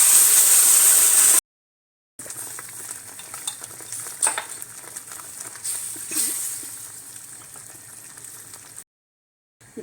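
Ground masala paste for egg kurma goes into a hot pan with onion, green chillies and curry leaves, giving a steady close sizzle and frying hiss with stirring scrapes, broken by short silent gaps and no talking.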